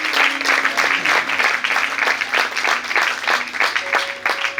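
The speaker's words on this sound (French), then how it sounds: "uma salva de palmas" A church seminar audience applauds with steady, loud clapping that fills the space for several seconds, close and unbroken, with a faint tone sounding underneath.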